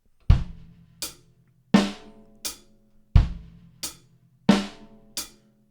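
A drum kit played one piece at a time in a slow repeating pattern: a deep bass drum thump, a crisp hi-hat tick, a snare crack, then another hi-hat. Eight separate close, loud hits, each ringing out before the next.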